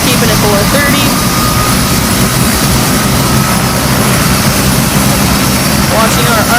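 Bell 206 Long Ranger helicopter turbine with the throttle opened fully, a loud, close, steady roar and whine holding constant throughout, with no clear talking over it.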